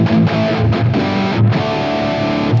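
Electric guitar through a Mesa Boogie JP-2C amp with presence raised for a tighter tone, distorted palm-muted chugs and chords in quick rhythmic bursts, loud and close with no talk.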